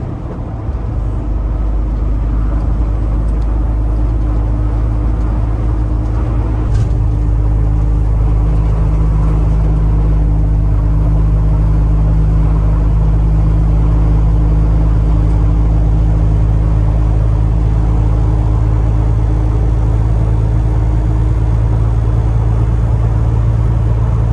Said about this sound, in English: it actually is holding 52 miles an hour good